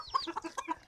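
Pekin bantam and Silkie chickens clucking as they are caught by hand, a quick run of close, agitated squawks and clucks packed into under a second.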